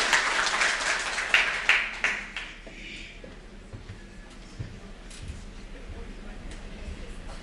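Applause from an audience after a professor's presentation, a dense patter of claps that swells at first, then thins and fades into scattered faint claps and room murmur.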